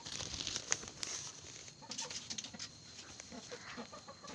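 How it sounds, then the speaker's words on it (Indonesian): A chicken clucks in short, repeated bursts close by, with some scratchy rustling in the background and no voices. "untuk yang pertama ini ada seekor ayam"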